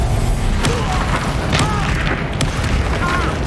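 Fire spell cast in the video game Hogwarts Legacy, a loud booming burst layered over constant game combat noise, with a heavy thump and crackling rumble; voices speak over the action.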